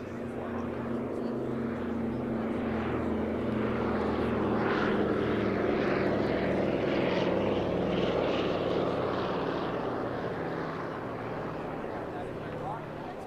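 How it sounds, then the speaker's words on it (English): The twin radial piston engines of a C-47 roar in a steady throbbing drone, swelling louder in the middle as the plane passes at an air show, with speech faintly mixed underneath. "now listen to the sound of the radial piston engines here,"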